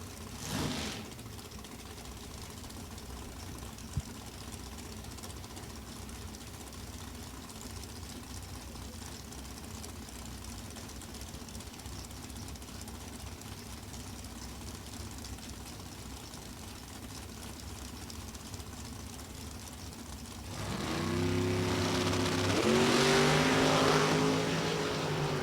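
At a drag strip, Chevrolet race cars, including a Chevy Cavalier, launch and accelerate, a loud engine roar that swells near the end over a steady crowd and track rumble, with an announcer's voice in the background.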